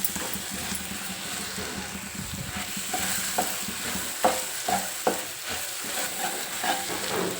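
Masala paste with fenugreek powder sizzles in oil for a bitter gourd curry, with occasional spoon scrapes and stirring taps up close, fairly faint and without talk.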